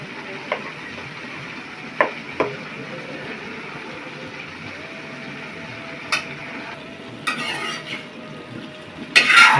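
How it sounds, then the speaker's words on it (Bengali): Yardlong beans stirred in a pan after salt and turmeric go in, a quiet low sizzle with a few sharp utensil scrapes and clinks against the pan. "একটু নাড়িয়ে দিলাম।"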